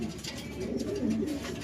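Young pigeon squabs coo softly and continuously up close, low rolling warbles that pulse steadily with no talking.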